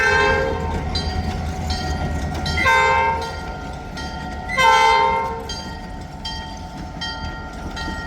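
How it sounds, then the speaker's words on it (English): Horns sound on vintage locomotives, newly fitted replacements at a grade crossing. Two loud chord blasts ring out near the three- and five-second marks over a steady rumble of the working train, with fainter horn tones lingering between them. "I mean, they're horns, but they're not the horns that were on 400."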